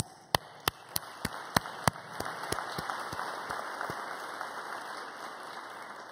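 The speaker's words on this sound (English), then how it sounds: "All of you in this room who were involved should give yourselves a big round of applause" Applause at a social-impact finance conference opens with a few loud, evenly spaced single claps, then swells into a dense, steady roar of many hands that continues to the end.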